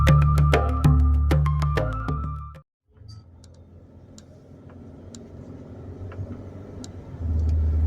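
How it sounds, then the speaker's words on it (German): A car drives along a rural road near Pariquera-Açu in Brazil, with steady engine and road rumble up close, a brief dropout, then the drive continues at a lower level before building again. "Ich fahre jetzt einfach mal in die Stadt"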